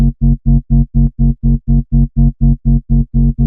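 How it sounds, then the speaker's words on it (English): A Sylenth synth preset built from sine and triangle wavetables sounds loud, even chord stabs, about fourteen short pulses in a steady rhythm with a warm low-heavy tone and no voices. "I want to introduce one more synth coming in from Sylenth"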